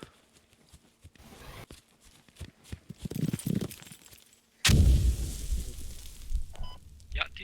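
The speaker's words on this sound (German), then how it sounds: "Granate." A grenade blast in the video game Squad lands as one sudden loud explosion with a low rumbling tail, after scattered quieter clicks and faint background talk.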